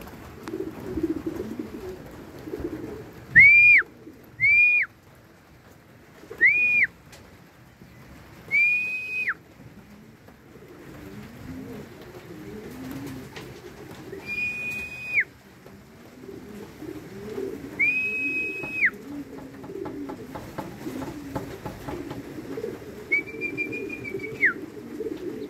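Racing pigeons coo in soft, rising-and-falling whistled calls, several separate phrases spaced a few seconds apart over low background murmur.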